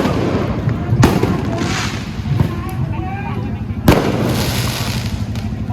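Fireworks go off in two sharp bangs a few seconds apart, heard over a steady background of crowd noise and murmuring voices at a street protest.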